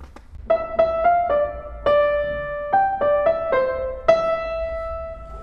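A Burgmüller study played on solo piano with careful phrasing, crisp wrist-released staccato notes and accented attacks, a steady run of clear, ringing notes and short chords heard close up with no talking.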